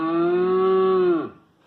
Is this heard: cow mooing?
yes